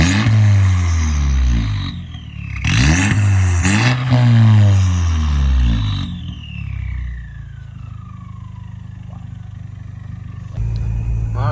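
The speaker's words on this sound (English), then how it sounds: "Oh, you can definitely hear that turbo" Straight-piped turbocharged car engine revving and pulling through gears, loud and close, with repeated rising sweeps broken by shifts, then settling into a quieter cruise before building again.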